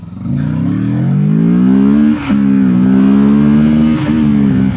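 A 2025 Kawasaki Ninja 650 motorcycle engine revs up loudly and steadily, rising in pitch, with a brief dip and gear change midway before pulling on again.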